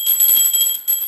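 A small hand bell rings with bright, sustained high metallic tones, struck twice in quick succession, close and clear in an otherwise quiet room.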